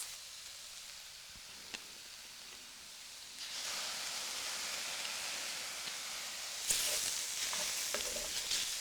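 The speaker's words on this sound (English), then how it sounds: "you're going to stir fry them basically like so" Shiitake mushrooms stir-fried in a pan, a steady close sizzle and hiss that swells louder midway and again near the end as the pieces are tossed, with faint scraping and no talking.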